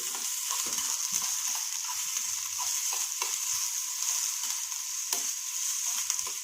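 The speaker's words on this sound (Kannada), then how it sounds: "ಸ್ವಲ್ಪ ಅರ್ಧ ಚಮಚ ಜೀರಿಗೆ, ಶುಂಠಿ ಬೆಳ್ಳುಳ್ಳಿ ಪೇಸ್ಟು, ಹಾಕಿ ಸ್ವಲ್ಪ ಫ್ರೈ ಮಾಡಿ" Cumin seeds and ginger garlic paste frying with onion in a pan for potato chapati, giving a steady, bright, close sizzle with occasional soft stirring scrapes and no talk.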